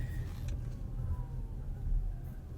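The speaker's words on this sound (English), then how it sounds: "let's park this thing and wrap up the review" A 2019 Toyota RAV4 Hybrid Limited is parked, heard as a quiet low interior rumble with a faint whir, soft and steady throughout without talking.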